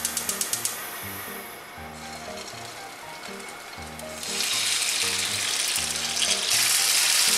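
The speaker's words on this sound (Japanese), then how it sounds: "再びごま油を入れて肉を焼きましょう。" Pork thigh meat sizzles in hot sesame oil for ginger pork, at first under a quiet looping music bed, and the frying grows louder and denser in the latter half.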